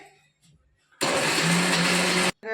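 A kitchen mixer grinder whirs loudly and steadily for over a second as it grinds food, then cuts off abruptly, preceded by brief faint sounds.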